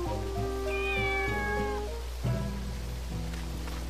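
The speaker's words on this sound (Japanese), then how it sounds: "まさかの猫。" Cat meowing in the video game Sakuna: Of Rice and Ruin, a couple of drawn-out meows over a steady game background with faint chiming music tones.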